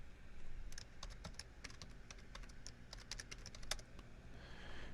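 Quick bursts of typing on a computer keyboard as a command is entered in an Ubuntu 20.04 terminal, irregular clicky keystrokes clustered in short runs over a steady low hum, fairly close and moderately quiet.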